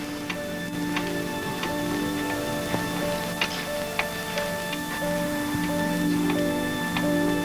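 A clock ticks steadily and evenly, sharp regular ticks over a soft sustained hum, with no voices.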